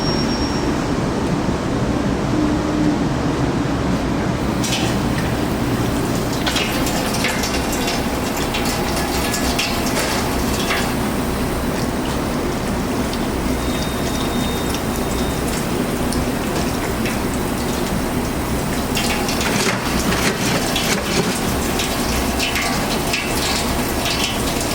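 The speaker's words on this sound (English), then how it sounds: "I'm gonna go wash my hands again" Steady broadband rush of tap water running into a sink during hand washing, continuous and fairly loud throughout with a slight shift in texture partway, no talking.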